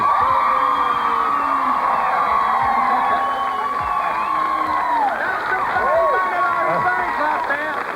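Ladies in a television studio audience cheer and shout loudly for a contestant in a stripper competition, a dense crowd roar with whoops and high-pitched voices rising over it.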